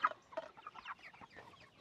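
Cornish Cross rooster clucking in a run of short, close clucks and chirps, fairly faint, with no talking.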